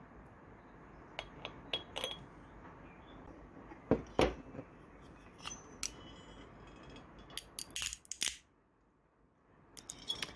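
Walnut shells crack in a series of sharp, separate snaps and crunches, some louder bursts among quieter clicks, close up with no talking.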